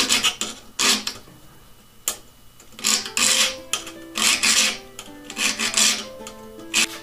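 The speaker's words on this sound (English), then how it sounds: "So let's go back and file this side down." A file rasps along the steel of an old hand saw blade, grinding one side down in a series of uneven strokes, loud and close, with short pauses between them.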